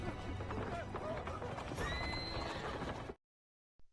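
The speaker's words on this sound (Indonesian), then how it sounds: "segerombolan orang berkuda datang" Several horses gallop and neigh as a band of riders arrives at a monastery in a film scene. Dense, loud hoofbeats and whinnies run steadily for about three seconds, then cut to near silence broken by one short click.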